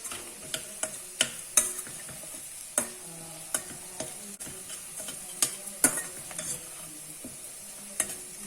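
Soft sizzling of dry fruits frying in a pan, punctuated by sharp, irregular clicks and taps of a spoon stirring, close and fairly quiet.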